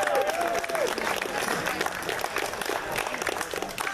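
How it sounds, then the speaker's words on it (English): An audience at a cosplay contest at a Fresno toy, anime and comic convention claps steadily and densely, filling the room for several seconds with a brief voice near the start. "Round of applause for the children"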